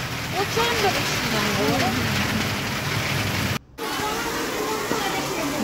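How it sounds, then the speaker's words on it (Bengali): Heavy rain pours down at a flooded school, a dense, constant roar of drops and running water that fills the whole scene, with a voice talking faintly underneath and one brief dropout. "প্রচন্ড বৃষ্টি পড়ছে"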